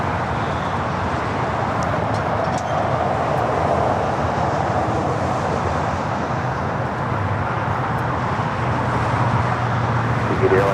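An airliner on Flight 102 from Papeete arriving at LAX rumbles as a broad, steady jet roar with distant airport traffic noise beneath, continuous throughout.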